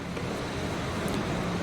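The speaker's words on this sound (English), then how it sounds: "So some ambient street noise." Steady low rumble of distant traffic with a broad wash of street ambience, continuous and even, no voices.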